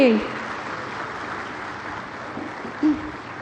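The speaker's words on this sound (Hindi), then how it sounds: "आप सभी की ओर से जोरदार तालियां बनती रहे" A crowd applauds to welcome PM Narendra Modi at a public inauguration ceremony, a steady, fairly faint wash of clapping that follows a voice and continues evenly, with a brief vocal sound near the end.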